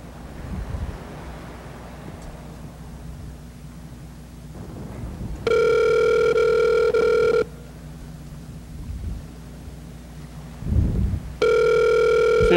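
A telephone ringback tone on an outgoing call sounds in two steady bursts of about two seconds each, separated by quiet. Faint wind noise and rustling fill the gaps.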